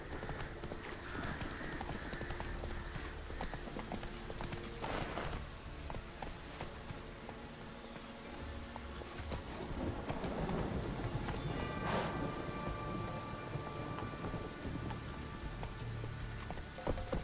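Horse hooves clip-clopping at a gallop in The Witcher 3, a steady rapid rhythm running throughout the clip over background game music and ambience.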